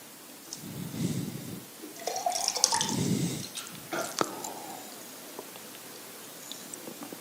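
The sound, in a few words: person drinking a sip of water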